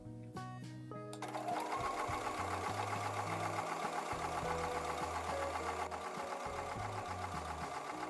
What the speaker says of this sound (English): I'm going to take those over to the sewing machine and sew on top of the line.